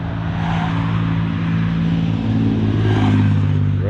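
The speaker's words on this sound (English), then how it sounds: "road's awfully busy here today" Traffic on a busy road, a loud close engine drone swelling and fading as cars pass by, with no talking.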